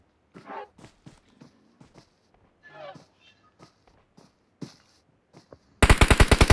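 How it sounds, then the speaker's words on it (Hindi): Gunfire in the battle royale game PUBG Mobile, version 2.6 dino mode: a sharp, loud burst of rapid automatic shots comes at the very end, after scattered footstep-like thumps and someone talking. "मुझ पे कौन फायर कर रहा है?"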